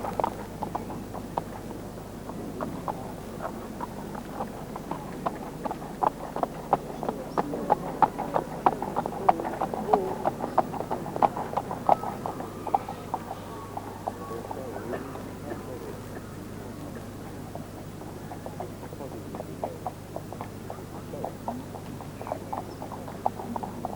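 Horses trotting on firm ground at the 1984 Badminton Horse Trials inspection, a steady rhythmic clip-clop of hooves with a murmuring crowd and ambient noise throughout.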